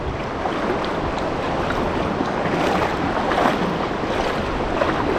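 Fast water rushing over the edge of a catfish spillway, shin deep and strong enough to sweep someone off, makes a steady, loud broadband roar with no breaks and no voices.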